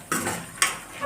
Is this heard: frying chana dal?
yes